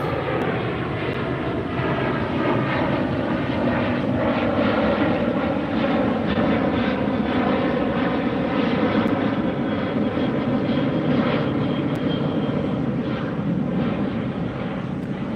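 A Southwest jet airliner passes at LAX airport near the beach, its engines a loud, sustained roar with a steady whine, close and unbroken for the whole stretch, with no talk.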